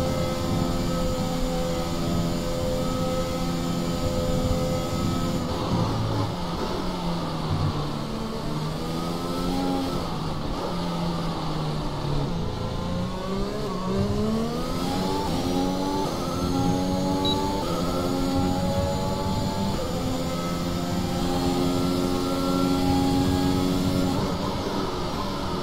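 An F1 car engine in F1 2021 on a final qualifying lap, screaming loud and continuous, its pitch climbing through the gears and dropping sharply under braking several times.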